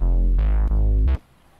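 Layered mid bass and sub bass synth in FL Studio: deep, heavy notes in a short sequence of three hits, loud and close, cutting off abruptly into near silence.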